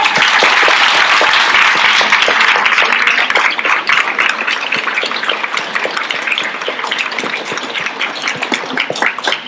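Audience applause at a festival event, a dense wash of many hands clapping that starts loud and full, then thins slightly while staying steady for the whole stretch, with no voices over it.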